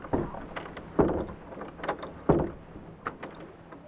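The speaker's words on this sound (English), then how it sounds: "Well, I was trying to get the goddamn door to shut." Door being pushed and shoved shut, giving several separate knocks and bumps of varying strength with rattles in between, close by and with no talk.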